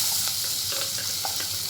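Chopped onion hits hot oil in a pan for a spicy dry Maharashtrian zunka, giving a steady close sizzle with faint crackles and stirring, with no voices.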